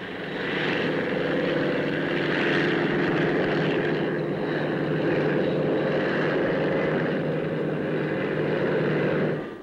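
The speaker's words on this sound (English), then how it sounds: "The Westland Wessex, in production for the Royal Navy, is a very advanced anti-submarine helicopter." A Westland Wessex anti-submarine helicopter at an air show drones loudly and steadily overhead, a sustained whirring roar that holds for several seconds before dropping off at the end.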